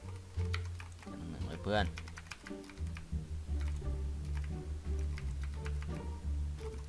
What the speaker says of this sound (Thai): คีย์บอร์ดเสียงดังเลยนะ